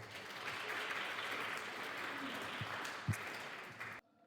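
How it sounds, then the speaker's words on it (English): A hall audience gives a steady round of applause welcoming a panel of five speakers to a cultural society event, the clapping sustained for about four seconds before cutting off abruptly. "we can welcome them with a round of applause"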